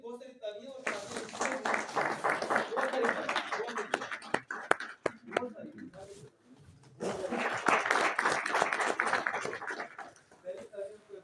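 An audience at a meeting in a library hall in Gujranwala breaks into two hearty rounds of applause, each lasting several seconds with a short lull between them, and a few scattered claps at the start and end.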